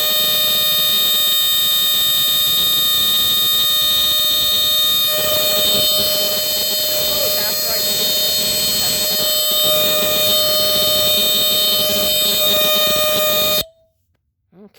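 An Entronic Vigilante II ES-7 smoke detector under test blares a loud, piercing, continuous high-pitched tone for about thirteen seconds before stopping abruptly, leaving near silence.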